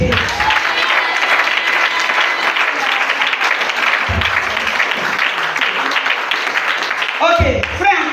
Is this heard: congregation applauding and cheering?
yes